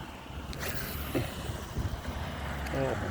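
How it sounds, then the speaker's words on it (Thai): Strong wind buffeting a microphone outdoors beside a fishing pond, a continuous low rumbling roar with gusty swells throughout. "โอ้ยลมลมเกิน"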